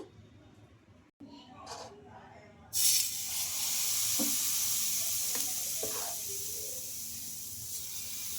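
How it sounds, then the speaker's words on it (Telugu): A sponge dosa of rice rava and coconut batter sizzles steadily on a hot pan, a soft hiss that rises after a clatter and holds under quiet background sounds. "ఈ బబుల్స్ ఆరిపోయే వరకు అయితే మనం దోశనైతే కాల్చుకోవాలండి"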